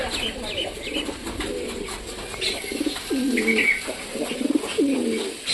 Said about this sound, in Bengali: চলো আমাদের পায়রাগুলো কি করছে সেটা আমরা দেখি